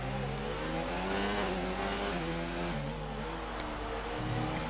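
A McLaren F1 race car engine in a video game at the Singapore circuit screams steadily at high revs, its pitch rising and shifting through gears as it powers out of a corner, loud and continuous throughout.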